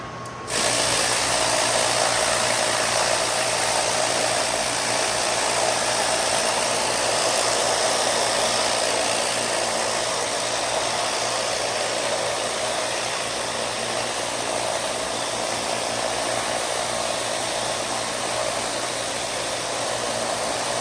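A rock tumbler with an 18-pound barrel runs uncovered, producing a loud, steady churning roar with a constant motor hum that starts abruptly and holds unchanged throughout.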